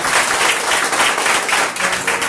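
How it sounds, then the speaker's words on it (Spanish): A church congregation applauding, dense sustained clapping from many hands filling the space loudly and evenly for the whole stretch. "Denle un fuerte aplauso a nuestro Señor, nuestro Jesús"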